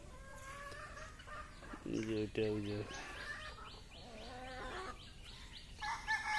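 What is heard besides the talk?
native chickens, chicks and rooster clucking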